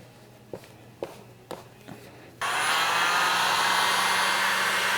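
A heat gun blasts steadily on vinyl wrap film being worked around the bottom of a car front bumper, a loud continuous airy roar that starts abruptly after a few soft taps and handling thumps.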